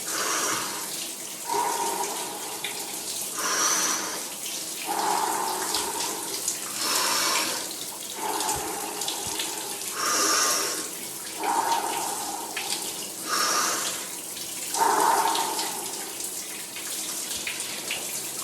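A cold shower runs steadily, water hissing and splashing in shifting bursts as it strikes a body and surfaces, close and continuous without speech.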